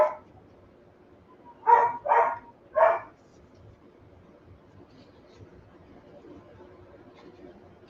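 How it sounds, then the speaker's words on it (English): Two dogs, one big and one small, bark a few times from a distance, with three short barks clustered together over a quiet indoor background. "Are you guys hearing the dogs?"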